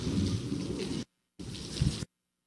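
Steady rain pours down during a flood with howling wind, a dense continuous wash of noise that fills about a second, drops out, then returns for another second alone.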